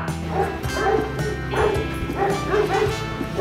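Several dogs of mixed breeds and sizes bark and yip during an outdoor training exercise, with loud, close barks repeating in an uneven rhythm, some sounding high and whiny.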